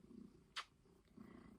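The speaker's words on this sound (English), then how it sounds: "This is Ginger Kitty" A ginger cat purrs softly nearby in a quiet indoor room, with two low rumbling stretches broken by a brief brighter sound.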